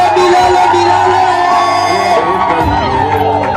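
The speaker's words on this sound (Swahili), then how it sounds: "makofi shangwe na vigelegele" Wedding crowd erupting with loud, sustained cheering and shouting for about three and a half seconds, with high trilling ululation cries and applause blended into the dense roar.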